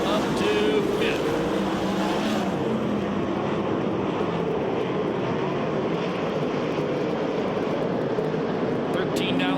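USAC/CRA sprint cars racing on the dirt oval at Perris, California, making a continuous loud engine roar as the pack passes, under an announcer's steady commentary.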